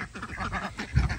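Ducks quack near a rural property where the trees along the boundary have just been cut down, a busy overlapping chorus of close, nasal calls running throughout.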